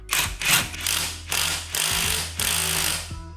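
An impact wrench drives a fastener through an Orion Motor Tech 80 foot-pound torque limiting extension bar. Four or five loud rattling hammering bursts follow one another in quick succession, close up, with no voices.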